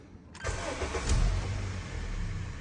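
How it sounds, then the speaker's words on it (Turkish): A Honda car engine cranks and catches with a sharp start, then settles into a steady, close idle with a low rumble; the car is having its engine mounts replaced after showing vibration and shaking. "şimdi startımızı verelim"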